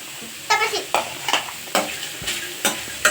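A spatula stirs chopped coriander, carrot, tomato, onion and chili frying in a pan for sago upma, with repeated scraping strokes about every half second over a constant close sizzle.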